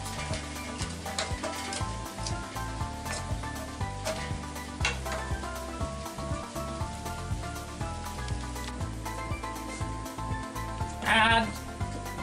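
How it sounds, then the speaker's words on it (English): Mixed ingredients frying in a pan as part of a simple Japanese home recipe, a faint crackling sizzle running steadily beneath soft background music, with one brief brighter hiss near the end. "Mix them and fry them for about 10 minutes."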